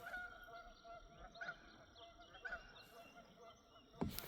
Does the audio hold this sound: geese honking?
yes